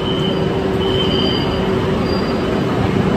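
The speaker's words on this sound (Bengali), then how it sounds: "আজকে এই দুবারই চলবে মেট্রোটা।" Kolkata Airport line metro train on a pre-trial run, running steadily close by for the whole stretch with broad rumbling rail noise, a sustained tonal hum and faint wheel squeal, no voices.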